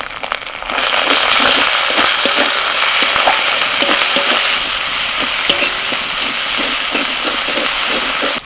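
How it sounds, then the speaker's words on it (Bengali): Onion frying in hot oil with ginger, garlic and green chili paste added, a loud continuous sizzle with scattered stirring scrapes, close and alone without speech. "পেঁয়াজটা ভাজা ভাজা করে নিয়ে আদা রসুন কাঁচা লঙ্কা বাটাটা দিয়ে দিচ্ছি"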